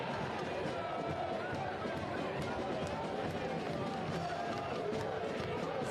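Stadium crowd roaring steadily at a Portland Hearts of Pine versus New York Cosmos soccer match, a dense, sustained wash of cheering and noise under a commentator's voice.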